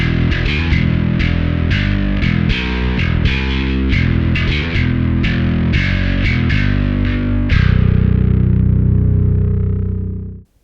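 Bass played through a Microtubes X7 preamp with the high level turned up gives an aggressive, distorted tone, loud and continuous as a run of picked notes ending in a held note that fades out.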